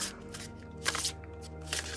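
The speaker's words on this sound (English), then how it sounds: "Just shuffle these, and then I will do the same thing and pull 3." A deck of Divine Abundance oracle cards is shuffled close by, giving a few soft papery riffles and rustles over a steady low background hum, with no speech.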